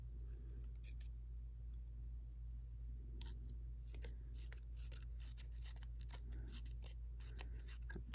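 Scissors snip through feather flower petals in a quiet room, a series of quick, close, crisp cuts arriving in irregular bursts with short pauses between.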